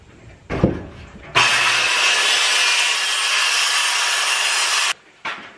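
A saw blade rips through a hard white oak board for board-and-batten trim. A sharp scraping handling noise comes first, then one loud, even cut of about three and a half seconds, followed by a brief clatter.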